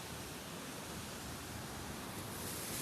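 Randha Falls on the Pravara river roars as a steady, dense wash of falling water, constant and enveloping with no breaks, heard from nearby while the flow is somewhat reduced.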